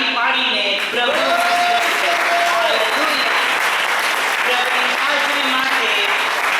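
A church congregation applauds together in praise during a Palm Sunday service, with sustained, dense clapping filling the room alongside musical or sung tones.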